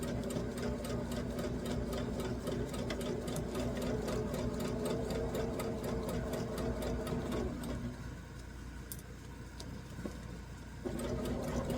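A sewing machine stitches across the bottom of a plastic ruler holder with a rapid, even mechanical rattle, pausing briefly near the end before resuming, heard up close.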